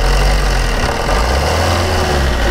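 A Maruti Ritz car engine idles with a loud, steady low rumble up close, the throb shifting slightly in pitch as it is revved gently before settling back.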